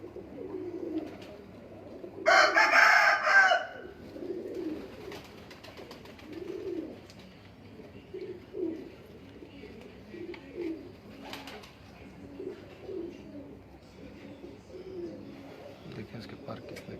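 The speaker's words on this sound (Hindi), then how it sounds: "ये मेरा भी मोस्ट फेवरेट कबूतर है यहाँ पे।" Breeder pigeons coo softly in a loft in Sialkot, low repeated burbling calls running through the whole stretch, with a brief louder flutter or rustle early on and people talking nearby.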